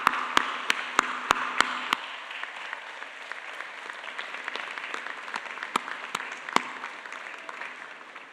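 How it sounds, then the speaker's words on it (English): Audience applause at a 2022 graduate commencement ceremony, a steady broad wash of many hands clapping through the whole stretch, with a few sharper close claps standing out near the start and again toward the end. "Please stand up and give everybody a round of applause."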